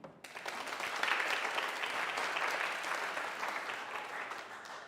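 A large church congregation claps together for several seconds during an Easter Sunday sermon, a dense, steady wash of applause that swells quickly and holds at an even level, with no talking over it.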